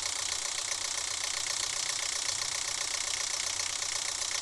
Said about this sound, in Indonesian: Ada suara si monsternya.